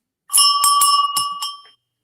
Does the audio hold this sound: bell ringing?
yes